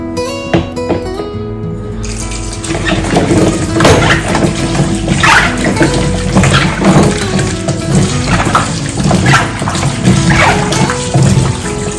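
A yellow cucumber is rinsed under running water from a tap, with a loud, steady splashing and trickling stream and occasional handling noises up close. A faint tone sounds before the water starts.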